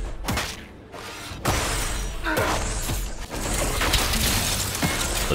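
A Shatter spell smashing frozen enemies in Dragon Age Inquisition: loud, dense crashing and breaking with sharp cracking hits over continuous heavy combat noise, no speech.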